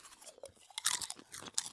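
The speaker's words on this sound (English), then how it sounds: "Crunchy snack." Close, crisp crunching as someone bites and chews a crunchy snack, with several sharp bites followed by irregular chewing and no talk.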